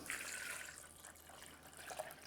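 Water pouring steadily into a Nutribullet blender cup, a continuous close splashing rush lasting a couple of seconds with no talking.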